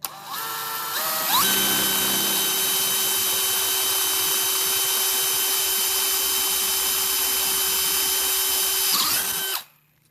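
Corded or cordless power drill spinning a DeWalt Pilot Point bit with progressive fluting through metal, a steady loud high whine that spins up, holds for about eight seconds, then winds down and stops, with no talk.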